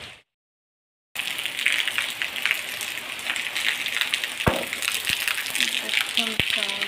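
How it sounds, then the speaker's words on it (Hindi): Steady rain falls in a dense, close hiss, with a few sharp drips and knocks breaking through and no voices heard. "केते वर्षा आज पूरा भिजेगला"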